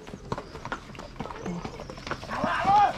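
Horse hooves clip-clopping during a group horseback ride, with faint irregular knocks under chatter and background noise, and a brief whistle-like sound near the end.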